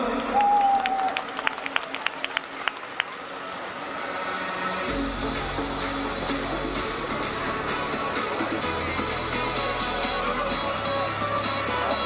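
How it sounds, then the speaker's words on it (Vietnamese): Audience applause fills the hall at a men's and women's physique bodybuilding competition in Ho Chi Minh City, rising after an announcer's voice into a sustained, fairly distant roar of clapping and crowd noise over deep music. "Xin một tràng pháo tay thật lớn được không ạ?"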